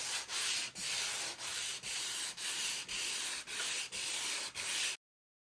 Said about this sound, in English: I'm going to go through with some nice 220 grit sandpaper, just gently scruff up this layer